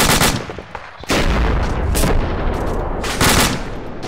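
Heavy suppressing gunfire in a firefight, sustained loud bursts of automatic fire with sharp repeated cracks, close and continuous over several seconds.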